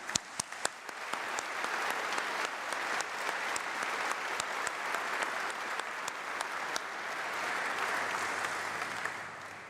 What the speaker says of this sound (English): let's give a huge round of applause to those people behind us